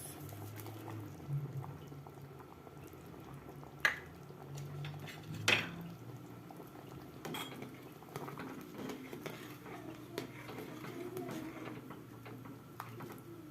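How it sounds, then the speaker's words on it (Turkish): A steady low bubbling of chicken lebeniye soup simmering in a pot, with a couple of sharp clinks of utensils against metal. "Çorbamız kaynıyor şu anda."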